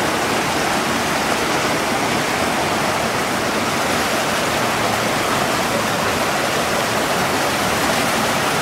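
River water pouring down over a grate on the Chehalis River where coho salmon run, a loud, continuous broadband rush and roar that stays steady and close throughout, with no voices.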